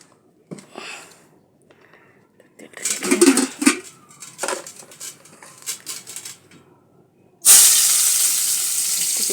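Oil goes into a hot kadai for a vegetable curry, setting off a sudden loud, sustained hiss and sizzle after scattered clinks and knocks of utensils against the pan.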